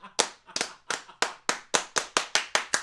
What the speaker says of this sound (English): Little slow clap.